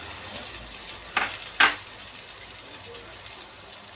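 Peas frying in a pan give a steady close sizzle, broken by two brief scrapes of a utensil stirring them, with no talk.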